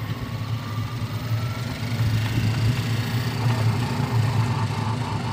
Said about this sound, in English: That motor's noisy.